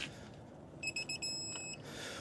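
A faint electronic torque wrench beep, a rapid series of short tones merging into a sustained beep on reaching torque while tightening Jeep Gladiator suspension parts, heard over low background rumble.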